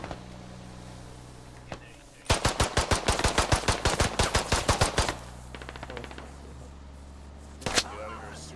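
Bursts of automatic rifle fire ring out in the military shooter game Squad: a loud rapid string of shots for several seconds, a quieter trailing burst, then a single late report, with voices talking over the action.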